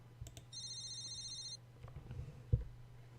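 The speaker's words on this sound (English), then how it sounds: "A beeping noise suddenly emanates from Mrs. Ibarazaki's pocket" A cell phone beeps from inside a pocket in a visual novel scene, a steady high electronic tone lasting about a second, followed by faint soft clicks and a short thump.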